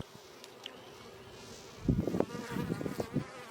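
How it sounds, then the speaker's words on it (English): Honey bees in a spring hive during an inspection, drones among them, hum and buzz steadily, with a louder burst of close buzzing and knocks in the second half. "There's a drone bee. There's one of our first drones."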